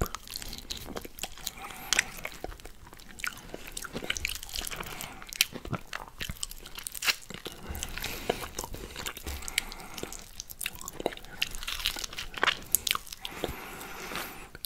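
Close-miked ASMR eating of durian fruit, with soft wet bites, squishy chewing and sticky mouth sounds repeating irregularly throughout, alone and without talk.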